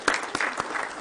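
Brief burst of audience applause for a student string orchestra at an evening address, a wash of clapping with a few sharper claps near the front.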